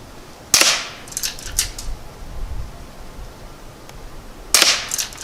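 Two sharp rifle shots from a Henry American Eagle lever-action firing Aguila Super Colibri rounds at a 15-yard target, each a crisp, moderately loud crack several seconds apart with faint handling noise between.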